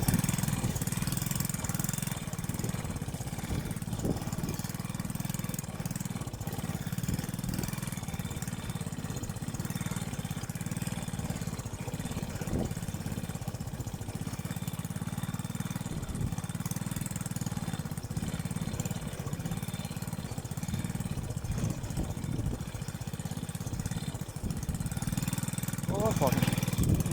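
A farm tractor engine runs steadily in the background, a faint, even mechanical drone that continues under occasional voices and outdoor noise.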